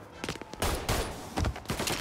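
Tommy gun fire in Mafia Definitive Edition, loud close bursts of rapid automatic shots in several volleys with brief gaps, alone without talk.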